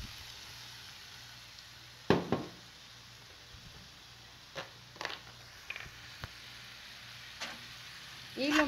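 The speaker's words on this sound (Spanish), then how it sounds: "Luego vertimos el vinagre." Vinegar poured into a hot pan for escabeche: a steady, quiet sizzle with a few small clinks and stirring knocks, close and without talk.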